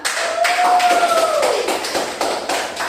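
A classroom of students claps for a classmate, a dense, continuous patter of hand claps with a brief whistle-like tone sliding down partway through.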